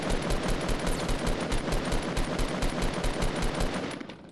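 Automatic weapon fire in the video game Fortnite Battle Royale: a loud, unbroken stream of rapid shots that runs evenly for about four seconds with no talk.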